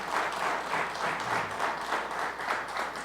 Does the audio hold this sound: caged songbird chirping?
no